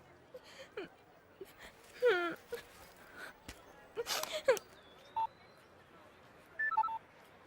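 Keypad tones of a telephone being dialed, a few short electronic beeps scattered among quiet room sounds and brief voices in a comedy scene.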